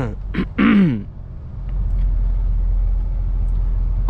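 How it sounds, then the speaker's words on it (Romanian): A man coughs and clears his throat a couple of times at close range inside a car driving through Germany, followed by the steady rumble of the road and engine. "a trebuit să tușesc un pic"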